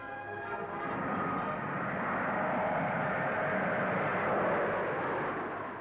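Vickers Viscount propeller-turbine airliner engines humming and roaring in a steady broad drone that swells gently and fades slightly, heard from a moderate distance with no voice over it.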